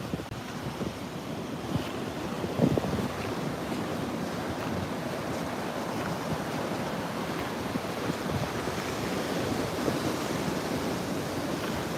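Steady ocean surf washing onto a shore with gusting wind buffeting the microphone, a continuous broad roar with no voices.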